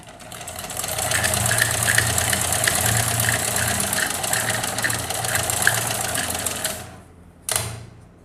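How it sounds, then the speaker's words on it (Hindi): A 20-year-old shuttle sewing machine, freshly repaired, stitches steadily with a fast rhythmic mechanical clatter for about seven seconds, then stops, followed by one brief burst of running. "देखिए सिलाई बहुत अच्छी आ रही है मशीन की"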